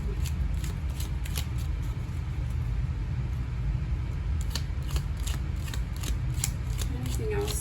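Tarot cards are shuffled by hand, giving soft papery riffles and light flutters in quick bursts near the listener, with some talk in the background.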